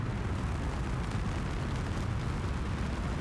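Solid rocket boosters roar through a rocket liftoff in Kerbal Space Program 2, a dense, steady low rumble that holds loud and even the whole time, with no voices over it.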